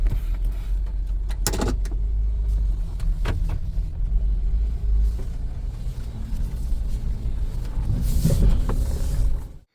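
A car engine idling on a very cold day, running at a high, uneven rev on its own as it warms up, a steady close rumble with a few brief louder bursts and no talking.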